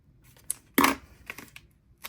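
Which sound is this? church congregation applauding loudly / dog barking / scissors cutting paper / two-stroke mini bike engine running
scissors cutting paper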